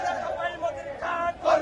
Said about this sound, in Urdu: اس کے اندر جو نعرے لگائے جا رہے ہیں وہ انتہائی شرمناک ہیں